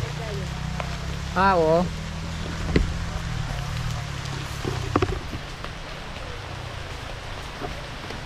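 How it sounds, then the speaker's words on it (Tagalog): Steady rain falls outdoors beneath a tree on land being cleared, a continuous hiss close by, with a couple of short voiced exclamations over it. "Medyo may ulan na talaga"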